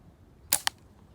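A gunshot fired at a target gives a sharp, faint crack followed a moment later by a second, smaller click or pop, with quiet surroundings.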